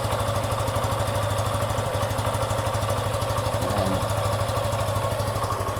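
A Suzuki Gixxer 155 motorcycle engine idles after an oil and filter change, a steady, close, rapid thumping putter that stays even and loud throughout.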